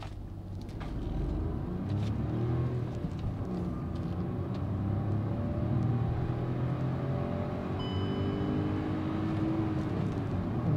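A Hyundai i20 N Line's engine drones steadily from inside the car, a low continuous rumble with slight rises in pitch as it revs and no talking.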